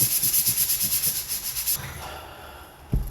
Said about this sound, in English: the sanding is done